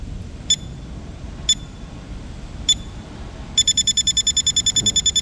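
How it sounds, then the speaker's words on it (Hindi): A motor control unit beeps as its down limit is set: three single sharp electronic beeps spaced apart, then a fast continuous run of repeated beeps confirming the setting, clear over a low background hum. "ये इस तरीके से कंटिन्यू बीप आने लगेगा। कंटिन्यू बीप आ रहा है, यानी डाउन का लिमिट सेट हो गया।"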